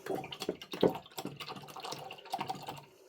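Water in a dirty jug splashes and sloshes during rinsing in a craft session, soft and close, in short irregular bursts with small drips and clinks.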